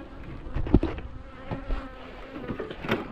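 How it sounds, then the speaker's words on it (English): Honey bees from a drone-laying hive buzz around the hive after a shake-out, a steady, moderately faint insect hum with a few louder passes and scattered handling knocks. "there's the remainder of the bees"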